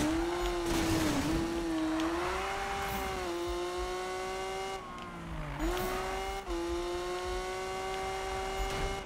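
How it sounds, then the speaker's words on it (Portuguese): Batman Lamborghini engine in Need for Speed 2015 on PS4, a sustained droning engine tone that rises and dips with gear changes and throttle, steady and fairly loud with faint tire noise. "esse meu carro é muito foda, cara. Muito foda mesmo essa Lamborghini aqui do Batman."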